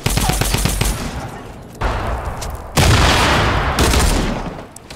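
Rapid bursts of automatic gunfire in the video game Fortnite rattle loudly in quick succession, with sharper shots and a booming impact, under excited players' voices.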